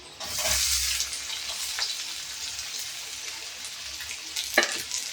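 Garlic and onions for a pepper garlic kuzhambu frying in a pan give a soft sizzle, with scraping stir strokes and a sharp clink near the end, fairly quiet and without talk.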